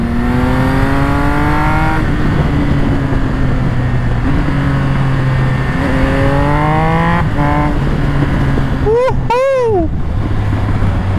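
A loud, close Triumph Speed Triple 1200 RS sport motorcycle engine accelerates hard, its pitch climbing and dropping at each quick quickshifter gear change, with sharp revving blips near the end.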